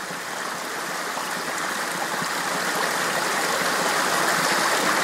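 A river stream flowing in the wild, a steady bright rush of water close by, constant and unbroken, with no voices over it.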